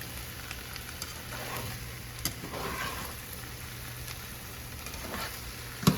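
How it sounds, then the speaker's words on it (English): Soft potatoes with about a quarter cup of an added ingredient being carefully stirred and folded in a pan, giving steady close scraping and sizzling textures with a few sharper knocks, no talking. "I'm going to stir that in real quickly. Real quick. Carefully fold it in."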